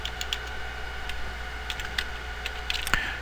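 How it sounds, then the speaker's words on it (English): Soft, irregular key clicks come from a computer keyboard as a name is typed, close-up over a steady low hum. "you're going to type your name"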